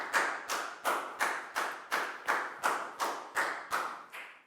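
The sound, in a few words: applause from a class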